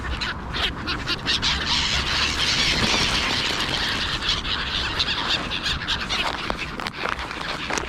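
Seagulls call over an open field in a dense, noisy chorus of overlapping squawks that continues throughout, with no voices.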